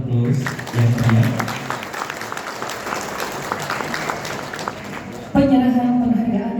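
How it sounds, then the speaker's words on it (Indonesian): An audience applauds at a ceremony, clapping continuing steadily throughout while a voice speaks over it. "Boleh kita berikan aplaus yang meriah."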